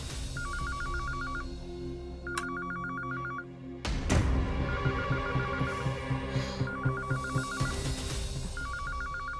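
A telephone in an outer room of a house rings in repeated electronic trilling bursts, five or so short rings spaced through the clip, with a sudden clatter and low thumping movement in the middle.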